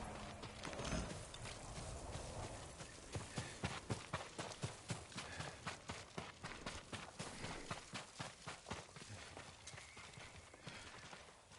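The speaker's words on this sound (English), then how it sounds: "Yuriko's horse. She can't be far." Horse hooves clip-clop in a PS4 video game, a quiet, steady run of rhythmic hoofbeats that grows more distinct and regular after the first few seconds.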